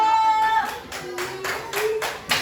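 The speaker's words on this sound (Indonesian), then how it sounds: "tepuk tangan untuk kelompok 1" A group of students claps for the first group during a classroom lesson, the applause building in several uneven bursts of moderate loudness over the second half.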